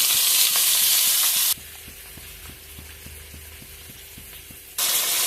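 Chopped onion goes into hot oil with whole cardamom, cinnamon, black peppercorns and bay leaves, frying with a loud, dense sizzle at first that drops to a softer, steady hiss with regular stirring taps, then rises loud again near the end.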